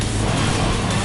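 A motorcycle engine revs in the video game Final Fantasy VII, a loud, steady, continuous roar for about a second with no speech over it.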